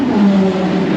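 Porsche GT3 RS pulling away from the line at a Goodwood track event, a loud close engine note holding a steady pitch through a brief burst.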